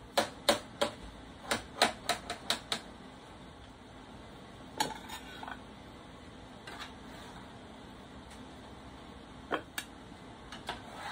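A knife slicing through cooked, charred ribs that are falling off the bone, giving a series of quick light taps and clicks against a board in bursts, with pauses in between and no talking.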